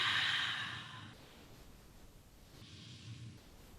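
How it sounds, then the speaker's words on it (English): A long, deep breath drawn in and let out slowly during a gentle heart-opening yoga flow, soft and close, followed by quiet, faint breathing and a second gentler exhale. "Deep breath in and out."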